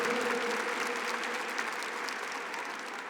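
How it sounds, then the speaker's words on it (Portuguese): A church congregation applauds at a Catholic healing service, a steady, moderately distant patter of clapping that holds evenly throughout with a faint tonal hum beneath. "Aplauda o Senhor"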